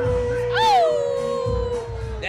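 A person imitates a dog or wolf howl on a blues show, one sustained voiced howl that rises sharply, then slowly falls and trails off, loud and close.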